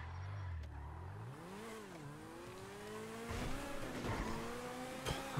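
Cars in GTA V Online ramming a driver from behind, engines revving and rising in pitch with bursts of tire squeal and a couple of sharp impact knocks, loud and close with no talking.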